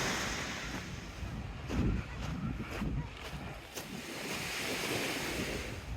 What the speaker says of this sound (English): with the wind blocker off of course, so you can hear the waves